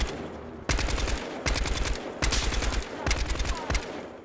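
Rifle fire in the Battlefield Hardline video game on PS3, four short bursts of rapid shots separated by brief pauses, loud and close.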